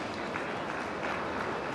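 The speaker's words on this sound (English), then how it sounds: "Let's have a big round of applause for all our speakers" A summit audience gives its speakers a round of applause: a thick, continuous wall of clapping from many hands stays loud and even through the short stretch.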